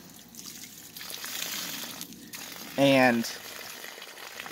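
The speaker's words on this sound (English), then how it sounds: "And you just gotta work the sponge" An aquarium sponge filter is worked and squeezed clean in tank water, making wet sloshing and trickling sounds that rise and fall close by. A brief spoken word cuts in partway through.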